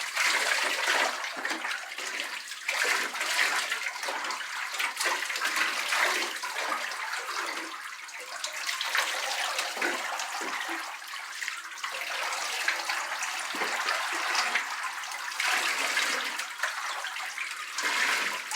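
Running water pours into a bath as a long-haired Labradoodle is rinsed, a loud, continuous splashing rush with uneven surges as the stream hits fur and tub.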